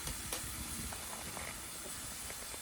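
Chili stewing gently in a pot over a low flame, a steady soft hiss with faint bubbling, even and quiet throughout with no talk.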